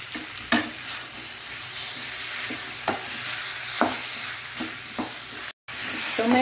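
Tomatoes are stirred into chicken frying in a pan for chicken karipatta: a steady hiss of sizzling oil broken by scattered scraping and clacking spoon strokes, close and fairly loud, with a brief dropout near the end.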